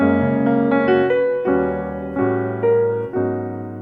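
Jazz piano chords moving through a short progression with tritone substitution voicings, rich voicings changing about every half second to second, played alone and close.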